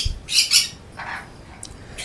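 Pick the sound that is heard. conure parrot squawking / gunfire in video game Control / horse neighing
conure parrot squawking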